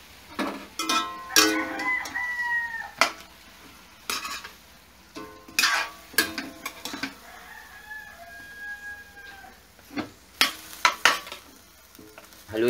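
Chicken pieces frying in a pan for Filipino tinola get stirred in irregular scraping bursts over a soft sizzle, with sharp clinks of the utensil against the pan standing out between quieter pauses.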